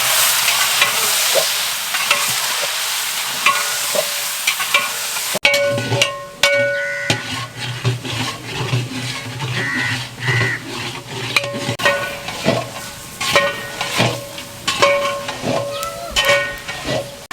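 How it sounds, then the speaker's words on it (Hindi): Six kilograms of chicken fry in a large biryani deg with a loud, steady sizzle, followed by bursts of scraping and stirring against the pot in an uneven rhythm. "6 किलो चिकन हम इस देग में डालेंगे और इसको बादामी कलर का या गोल्डन ब्राउन कर लेंगे"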